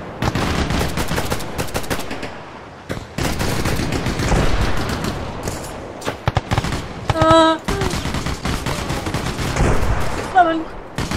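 Rapid bursts of gunfire in the military shooter Arma Reforger, with dense, repeated cracks and automatic fire, plus occasional louder nearby shots, during a defensive battle against an invasion.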